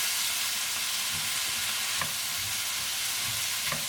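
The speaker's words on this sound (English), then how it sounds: "So deglazing the pan, it helps to take off all the flavors that are stuck to the pan" Mirin hits a hot stir-fry pan for deglazing, giving a steady, close sizzle throughout, with a few brief stirring scrapes rising above it.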